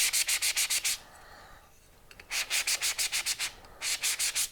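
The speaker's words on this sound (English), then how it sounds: "You sand it in a circular motion, and what this does is it's like loosening up the clay so it'll bend." Sanding EZ960 silver metal clay on a mandrel in a circular motion, rapid rhythmic scratchy strokes in three clusters separated by a brief pause, close and crisp with no talk.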